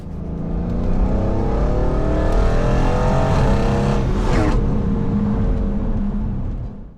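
A Mercedes AMG C63s drives through the mountains, its engine a loud, steady, close roar with throaty rumble and a brief swell of revving midway, no voices over it.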